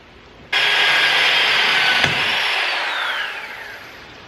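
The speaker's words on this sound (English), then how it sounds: "I'm going to start with a smaller drill bit." A power drill with a smaller bit boring in to fit Ford tow hooks on a Toyota Tacoma, a sudden loud high whine that holds steady for a few seconds, then slowly drops in pitch and fades, close with no talking.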